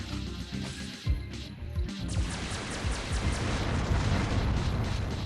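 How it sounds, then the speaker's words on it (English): Missiles fired by Legionnaire enemies exploding in the video game Descent, a run of heavy booming blasts and crashes that grow denser and louder toward the end, with no talking. "those missiles the Legionnaires fire is kind of hectic"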